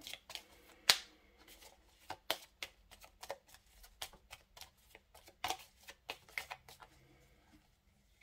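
Tarot cards being shuffled and handled at close range in quick, irregular riffles and flicks, crisp papery snaps coming in bursts over a quiet background.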